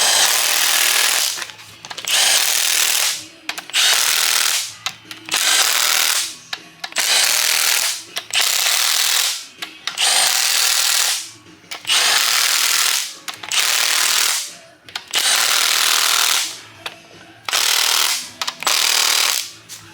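A power tool set to very low power tightens bolts over a gasket during an engine and transmission install on a Ford Fairmont, running in about a dozen loud, evenly spaced whirring bursts separated by short pauses.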